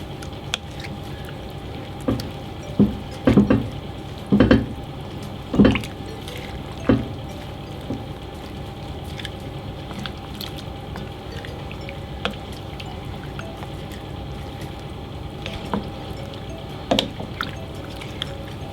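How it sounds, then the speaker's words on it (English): Lamb stew is stirred in a pot, giving a few wet, squishy sloshes and clinks early on, then quieter occasional liquid drips over a low background hum. "I'm just going to mix this in a little bit."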